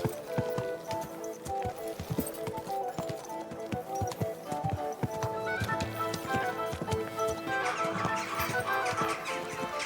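Rhythmic horse hoof clip-clops on a hard surface with a whinny, set against game music and ambience from Kingdom Come: Deliverance.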